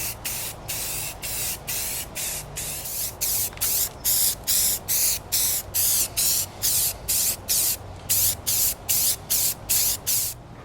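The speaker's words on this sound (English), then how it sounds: "I put about 4 or 5 coats of the Rust-Oleum Camouflage Brown on the support tower" Rust-Oleum Camouflage Brown spray paint is sprayed onto a model support tower in a steady series of short, loud hissing bursts with brief gaps between, close up, with no talking.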